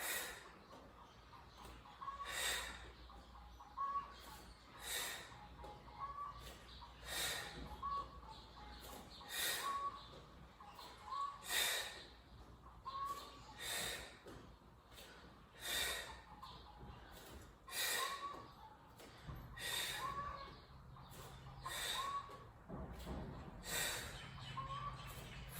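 Forceful exhales through the nose during a yoga breathing exercise, repeated in a steady rhythm of sharp, close puffs about every two seconds.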